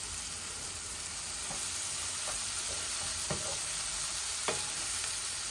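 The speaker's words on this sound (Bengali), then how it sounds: "চিংড়ি মাছ একসাথে দিয়ে দিচ্ছি। দেখছেন, এগুলো একটু ভাজা ভাজা হোক।" Prawns fry in a pan in a quiet, steady sizzle, with a few soft stirring clicks and taps scattered through it, close and fairly faint.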